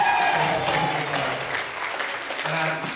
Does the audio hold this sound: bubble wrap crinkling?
no